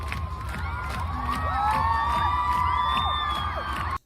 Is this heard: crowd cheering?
yes